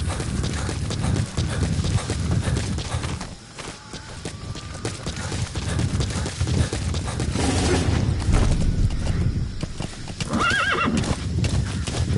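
Horse hooves clip-clop steadily at a walking pace in Metal Gear Solid V, with a loud horse neigh near the end, set against a busy game background.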